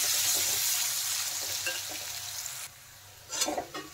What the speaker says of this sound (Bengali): মাশরুমগুলো প্রায় ভাজা হয়ে আসছে